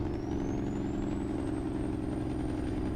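Jake brake on a Western Star 6900 logging truck in a driving game, a loud, steady, rapid low engine rattle with a faint rising whine above it.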